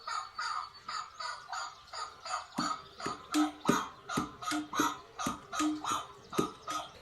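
A chukar partridge call played back sped up, a loud close series of rhythmic, evenly spaced harsh clucking notes that repeat about twice per second and grow stronger midway.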